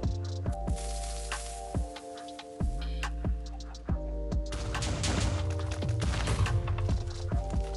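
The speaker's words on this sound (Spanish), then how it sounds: "las explosiones se ven bien épicas con esta cosa" Repeated booming explosions from the video game Minecraft with Realism Craft, sharp bursts every second or so layered over a steady droning tone and crackling debris.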